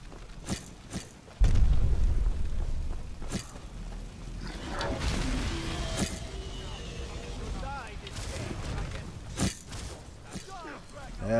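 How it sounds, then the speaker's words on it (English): A couple of gunshots in Manfred Testorson Episode 7: a heavy boom followed by scattered sharp reports over a continuous engine-like rumble, with a voice talking at points. "That's a couple shots there."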